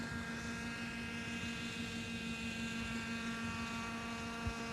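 A radio-controlled model helicopter flies with its power raised, giving a steady, continuous whine and drone of motor and rotor at a moderate, unchanging level throughout.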